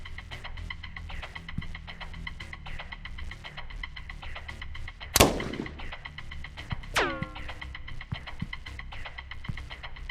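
A sharp gunshot cracks close and loud over a low humming background, then a second ringing metallic report follows and decays with a whining tail, amid scattered faint clicks and no speech.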